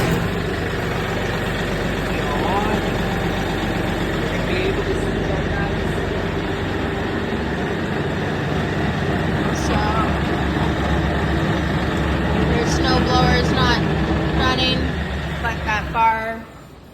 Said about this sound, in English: I'm going to turn on the tractor, I'm going to turn on the PTO shaft